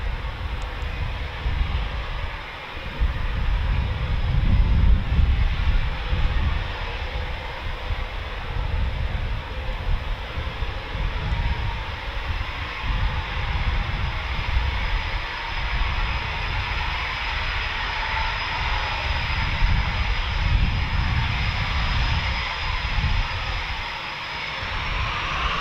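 Eurofighter Typhoon FGR4 fighter jet taking off at RAF Coningsby, a loud continuous jet roar with a deep rumble and a thin high whine, sustained and powerful throughout.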